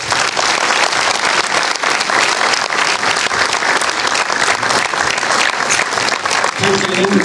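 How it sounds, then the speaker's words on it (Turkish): Loud, sustained applause from a packed audience at the gala premiere of the film Herşeye Rağmen at Kanyon, dense clapping filling the whole stretch with a brief voice near the end. "Kendisi bir alkışlayalım."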